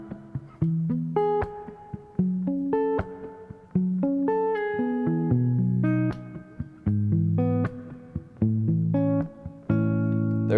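Guitar plays the part A rhythm of a song alone: a steady run of plucked chords and single notes in short repeating phrases, near and clear.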